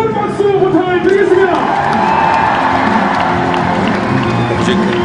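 Large crowd applauding and cheering loudly at a baseball player's retirement ceremony, with whoops and shouts rising over sustained clapping while an announcer speaks over the noise throughout.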